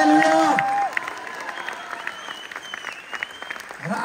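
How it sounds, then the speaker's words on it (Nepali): An audience applauds during a church program, a dense burst of clapping that starts strong and fades gradually over a few seconds, with a brief voice at the start. "अझ हाम्रो ताली जोडले गुचाउँदैछौँ।"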